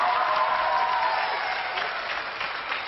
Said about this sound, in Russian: давайте аплодировать этому человеку.